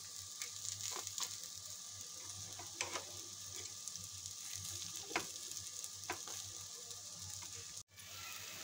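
Appe frying on low gas after being flipped, a soft steady sizzle with light crackles and occasional small pops, close and quiet, no talking.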